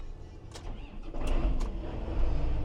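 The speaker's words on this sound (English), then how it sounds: "The old loader tractor." An old loader tractor's engine cranks and catches, with a few sharp mechanical clicks before the motor settles into a steady low rumble, close and fairly loud.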